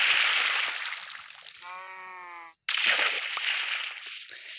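Splashing fountain water in a Minecraft village with a modded texture pack, a steady loud hiss that briefly drops out before returning, with a short tonal bleat-like sound in the middle.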